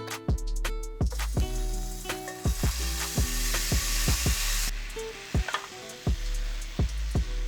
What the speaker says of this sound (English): Our bacon is starting to get crispy, and this is when we want to take it out the pan.